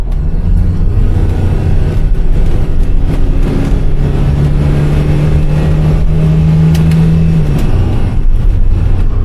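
A Mk3 Ford Cortina driving on a fair road, its engine a loud, steady close-up drone inside the cabin with road rumble and a rising then falling engine tone partway through.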